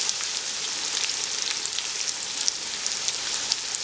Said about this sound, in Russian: Сюда же сейчас отправляется обжариваться морковь.